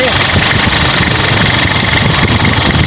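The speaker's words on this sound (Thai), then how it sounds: "เครื่องนิ่มดีครับ รถคันนี้ เครื่องยังเจ๋วเลยครับ" A Nissan Frontier pickup engine idling smoothly up close, a steady loud mechanical hum with an even, faintly knocking texture throughout.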